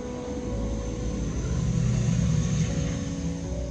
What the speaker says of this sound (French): il y a un avion qui passe